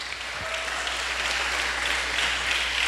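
Applause from a church congregation fills the room as a steady, dense wash of clapping with no voices over it.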